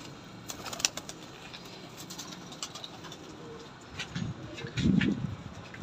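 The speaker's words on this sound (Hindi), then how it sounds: "ये जी माशाल्लाह इनके घर के नीले कबूतर हैं" Blue pigeons at a home loft give low cooing calls and brief wing flaps, soft and moderately close, with the cooing growing fuller toward the end amid faint background chirps.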